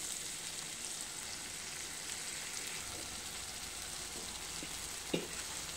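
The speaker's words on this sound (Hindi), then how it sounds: "इसको अच्छे से फ्राई कर लूँगी पूरा मसाला" Masala with Kashmiri red chilli frying steadily in oil for a lauki kofta curry, a soft continuous sizzle with a few faint scrapes and one sharp utensil tap near the end.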